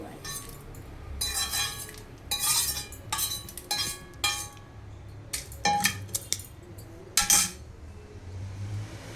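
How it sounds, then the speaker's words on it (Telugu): Cucumber seeds roast in ghee in a pan with a series of clinks and scraping taps as they are stirred, irregular and fairly quiet against a soft background. "ఈ దోస గింజలు కూడా ఈ నేతితోటి వేయించేసుకోవాలి"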